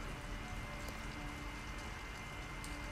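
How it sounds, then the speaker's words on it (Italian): Heavy rain in the video game Detroit: Become Human, a steady dense downpour hissing evenly throughout at moderate loudness with no voices over it. "Piove di rotto, tra l'altro, proprio come potrebbe andare peggio la situazione."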